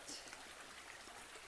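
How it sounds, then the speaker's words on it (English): Creek water spilling over a flooded hiking trail near Muskrat Shelter on the Appalachian Trail in North Carolina, a faint steady rushing trickle with soft splashy texture, no voices. "look, the water's running over"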